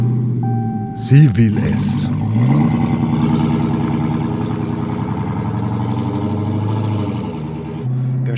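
A Dodge Hellcat V8 engine cranks and starts, then settles into a loud, steady rumbling idle that runs to the end, with a person speaking briefly at the start.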